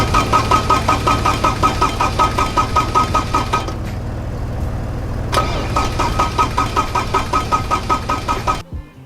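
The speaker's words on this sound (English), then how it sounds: "So as you saw, the car didn't start," A Porsche 944 Turbo cranks repeatedly without firing, the starter churning in a rapid rhythmic chug, pausing briefly midway and resuming before stopping; loud and close.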